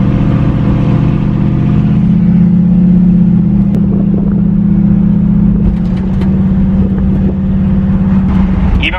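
A 1969 Chevrolet C10 engine fitted with Holley Sniper EFI runs steadily at close range, a loud, even low rumble with no voices over it.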